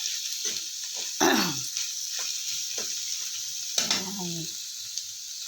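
Flaked boneless milkfish dropped into a hot pan for sisig, giving a soft continuous sizzle with two brief louder bursts of crackling as pieces land, close by and without speech.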